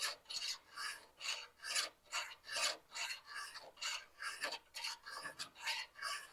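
Hand filing in a steady rhythm, about a dozen bright rasping strokes close up, evenly spaced and fairly quiet, with no talk.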